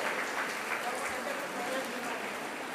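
A round of applause for a nun at a college's 75th jubilee celebration felicitation ceremony: steady, even clapping from an audience in a hall, moderately distant and continuous without a break.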